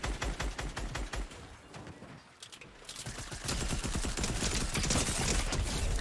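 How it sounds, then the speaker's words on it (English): Rapid overlapping gunfire from several players in Fortnite, dense bursts of shots cracking continuously, briefly thinning in the middle before swelling back into a loud, sustained volley. "Like three players shooting me at the moment."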